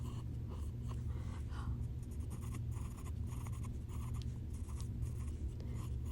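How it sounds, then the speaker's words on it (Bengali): Pencil scratching steadily across paper while sketching flowers on a branch, a soft continuous scraping with short strokes close to the mic, no voices. "এভাবে আমি এঁকে নিচ্ছি ফুলগুলো।"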